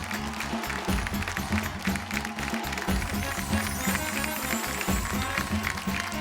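A studio audience on a Marathi TV game show applauds the winning pair, dense clapping running steadily for several seconds over loud rhythmic music.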